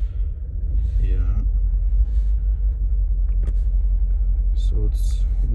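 A 2013 Mercedes G63 with the 5.5-litre M278 twin-turbo V8 idles rough on six cylinders, a steady low rumble close by with a faint uneven lope, while people talk over it.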